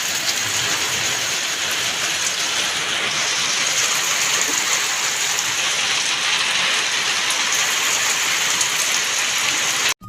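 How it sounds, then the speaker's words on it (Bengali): Heavy rain pours steadily and close by, a dense unbroken hiss of drops hitting surfaces that continues without a pause for the whole stretch, with no voices heard over it. "এদিকে দেখো কেমন জোরে জোরে বৃষ্টি হচ্ছে"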